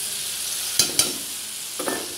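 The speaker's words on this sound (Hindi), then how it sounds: "काफ़ी देर इसको चलाएंगे जिससे हमारी दही फटे नहीं" A curd and gram flour paste stirred in hot oil in a pan on low flame, a faint steady sizzle broken by a few close scraping stir strokes of the spoon.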